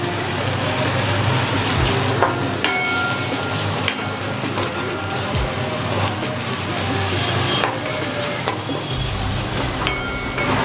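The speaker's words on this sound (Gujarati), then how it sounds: "આપણે એને ધીમા તાપે સાંતળી દેવાની છે" Fenugreek sautéing gently in a pan over a low flame gives a soft, continuous sizzle, punctuated by occasional scrapes and light clicks of a spoon stirring against the metal.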